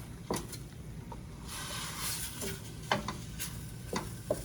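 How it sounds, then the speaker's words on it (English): Red wine poured into a hot pan to deglaze it while cooking pasta with mushroom cream sauce: a soft steady sizzle with scraping stir strokes and light utensil taps against the pan. "I'm going to add in a 1/3 cup of red wine. And just deglaze the pan with that."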